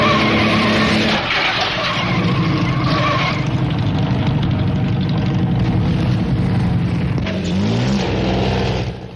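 Early racing cars on a twisting 23-mile road circuit in 1914 roar past, engines droning loudly and continuously with tyres scrabbling and skidding, the noise swelling and shifting as the cars pass close by.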